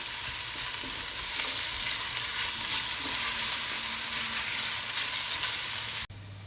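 Onions frying in a pan, a loud, continuous sizzle with steady crackling that holds throughout, then drops off abruptly near the end.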